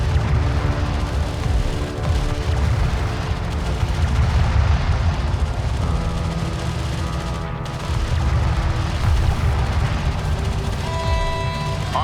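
Weapon fire and explosions in the video game Homeworld: Deserts of Kharak: a steady barrage of booms and shots at moderate loudness, layered with sustained engine-like hums and occasional short electronic tones.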